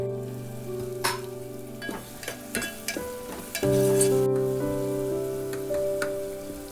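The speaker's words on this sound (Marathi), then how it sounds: "आता गरम पाणी म्हणून लगेच उकळी आली ना त्याला" A Konkani-style mutton curry bubbles and sizzles in a pot right after hot water is added, with occasional spoon clatters from stirring, all under steady background music.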